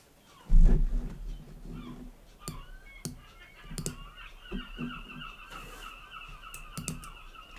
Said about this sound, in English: Sorry if you can hear the birds squawking.